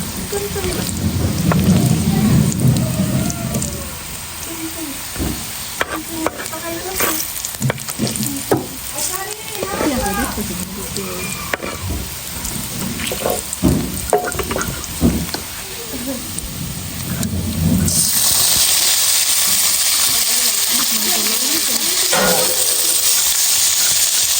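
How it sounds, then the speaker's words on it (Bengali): Vegetables sizzle and fry on an outdoor stove for bhorta, a loud steady hiss broken by stirring clatter and occasional voices, the sizzle swelling sharply toward the end. "আর কিছু সবজিগুলো ভাইজে নিতেছি ভর্তার জন্য।"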